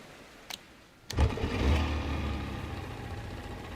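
A boat engine in DayZ Frostline catches after two faint clicks, then runs at a steady mid-pitched drone, close and loud with no talk.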